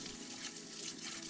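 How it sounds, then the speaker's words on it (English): Tap water runs steadily into a sink while leeks are rinsed clean of dirt between their layers, a continuous close gushing wash with no talk. "During cleaning, under running water, clean all the dirt from the layers."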